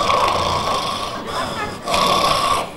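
A preacher voices loud, rasping imitation snores during a sermon: two long nasal snorts close to the microphone, briefly broken by a pause.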